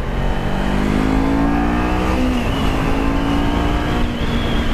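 A Kawasaki Z400 motorcycle fitted with an Akrapovic exhaust accelerates hard, loud and close, its engine note rising steadily through the revs with a continuous throaty drone.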